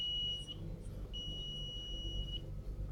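A .NET Gadgeteer light-sensor module on a BreadboardX1 sounds its buzzer as the light is covered, giving a thin steady electronic tone in two sustained stretches over a low background rumble, with no talking.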